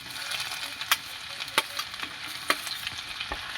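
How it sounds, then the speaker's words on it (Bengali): Chopped garlic and ginger fry in hot oil with a constant close crackle, punctuated by several crisp spatula taps and scrapes against the pan at uneven intervals, without any talking. "রসুনটা ভাজা ভাজা হয়ে গেছে। এবার আমি দিয়ে দেবো আদা"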